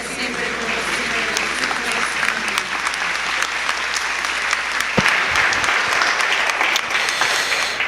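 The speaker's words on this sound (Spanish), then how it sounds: "no es necesario aplaudir en la Eucaristía" Sustained applause from a congregation inside a church during a homily at the Parroquia Santa Catalina de Alejandría in Zunil, steady, dense clapping filling the room for about eight seconds, with a slight swell near the end.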